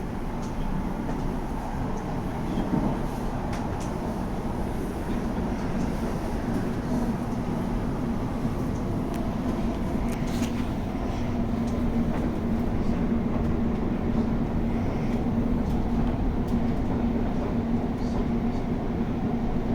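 A South Western Railway passenger train on the Windsor to London Waterloo line runs with a continuous low rumble and steady hum from inside the carriage, with occasional faint clicks and an automated announcement voice over it.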